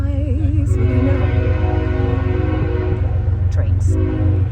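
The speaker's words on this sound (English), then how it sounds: "Trains." A train rolls past with a steady low rumble, its horn sounding in sustained tones near the start and again near the end.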